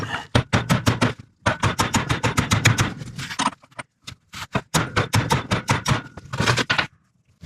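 A throw-out bearing is tapped into place with a socket, in quick bursts of sharp metallic taps with short pauses between groups, close and loud.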